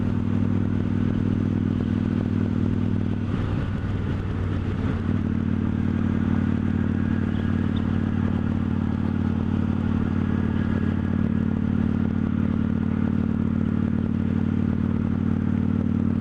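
A Victory Judge motorcycle is ridden with a steady, loud engine drone and wind noise, pulling in a higher gear, with a brief rougher burst partway through.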